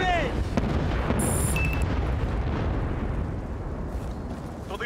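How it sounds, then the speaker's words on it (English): A bomb exploding in Battlefield: Bad Company: one loud sustained blast with a thick rumbling roar that slowly fades, a brief shouted voice at the start and faint game noise underneath. "Прицел есть, бомба пошла!"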